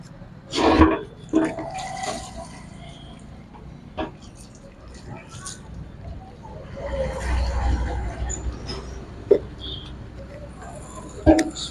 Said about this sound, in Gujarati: તો ચાલો હવે એને પાણીથી વોશ કરી નાખીએ